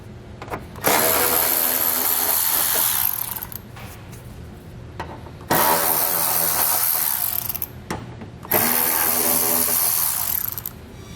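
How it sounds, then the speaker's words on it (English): A power ratchet or socket tool spins out the bolts along the bottom of the bumper fascia on a 2013 BMW X5, three loud bursts of a few seconds each with short quieter gaps between. "On the bottom of the fascia, you're going to remove the bolts that run from one side all the way to the other."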